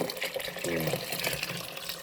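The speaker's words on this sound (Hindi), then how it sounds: "तो अभी इसमें थोड़ा पानी और जाएगा" Water poured into pakora kadhi in a cooking pot, a steady continuous pouring and splashing wash lasting about two seconds, close and fairly loud.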